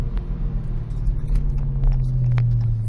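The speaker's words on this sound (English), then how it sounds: "I guess I'm going to try to videotape this as I'm driving" A car fitted with an upgraded Barton shifter on the move, heard as a steady, loud, close low engine and road rumble from inside the cabin, with faint small clicks on top.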